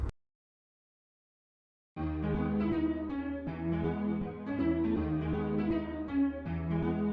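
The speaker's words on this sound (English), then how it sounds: "Then I add some reverb" Synth melody for a beat with reverb added on top of gross beat and hyper chorus, entering after a brief silence and sustaining dense washed chords for several seconds, loud and close with no speech.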